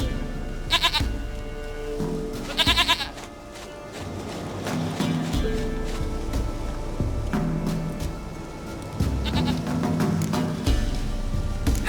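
Goat bleating in The Witcher 3, several sharp bleats layered over game music and ambient sound, with faint footsteps and a voice speaking in places.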